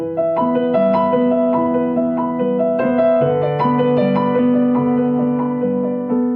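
Solo piano plays a dense, flowing passage from a soundtrack, with steady repeated broken-chord figures over sustained bass notes, loud and close throughout with no talking.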